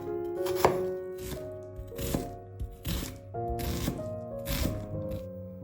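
Garlic cloves being minced with a knife on a cutting board, a steady series of crisp, close chops in uneven bursts with short pauses between them.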